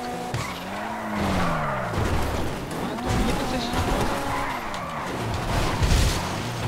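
Cars in the video game GTA Online skid and squeal their tires, with rising engine whines and repeated screeching slides close by, loud and continuous across the stretch.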